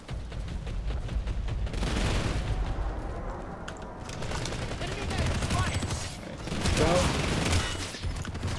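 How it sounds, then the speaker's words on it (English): Gunfire in the video game Planetside 2 during an infantry battle. Dense bursts of rapid shots and booms roll on continuously, with heavier volleys near the start and again toward the end. "that's some nice shooting over there"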